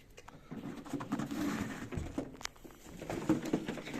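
Pigeons coo softly in a low, murmuring chorus, with faint rustling and scattered bird calls around them in a loft.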